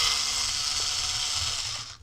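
Headlight retaining clips on a car are worked loose and pulled out, giving a brief, close, continuous ratcheting plastic rasp that fades away at the end.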